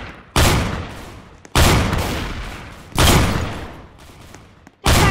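Minigun and rocket launcher fire in the Roblox game Strucid comes as four loud, booming blasts, each followed by a long decaying roar, spaced about a second apart.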